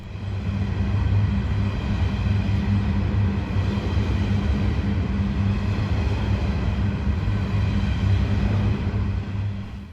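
Long Pacific National coal freight train of loaded hoppers rolling through Sandgate Station, a loud, steady low rumble and wheel roar that holds constant without a break, close by.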